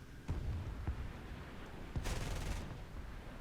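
Jet cannon fire from a jet dogfighting against Sabres in War Thunder, heard as a faint, short rattling burst in the middle, set among a few distant thumps over a low, steady rumble.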